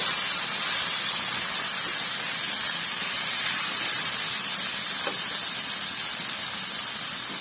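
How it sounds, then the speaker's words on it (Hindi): Chopped tomatoes go into a hot pan with chili sauce and soy sauce for pasta, and a loud, steady sizzling hiss follows. The sizzle fills the whole stretch without pause. "अब हम इसमें डालने लगे हैं टमाटर जो हमने बड़ी से कटिंग करके रखा था"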